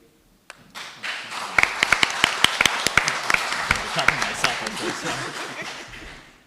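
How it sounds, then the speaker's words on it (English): An audience claps after a speaker is introduced at a Wolfe Tone 225 commemoration session in Dublin. The applause starts with a lone clap, then swells into a steady, crisp run of many hands for several seconds before tapering off. "I just realized I probably shouldn't be clapping myself there."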